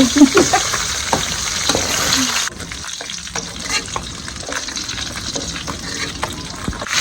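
Pointed gourd and potato frying in a pan, a loud steady sizzle with stirring scrapes, the frying continuing more quietly after a sudden drop midway, with a few faint background sounds and no clear talk.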